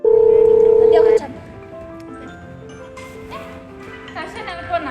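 A telephone dial tone sounds steady and loud for about a second while a call is placed, then cuts off, followed by people talking.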